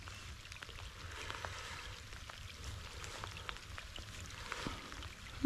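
Heavy rain falls around an angler fishing on the Nagykunság main irrigation canal, a faint, steady hiss dotted with scattered drop ticks.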